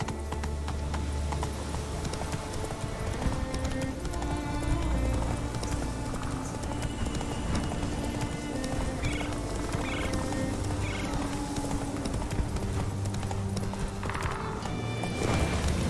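Roach the horse gallops in The Witcher 3: Wild Hunt, a continuous thudding clip-clop of hooves under game music, with brief whinnies and snorts along the way.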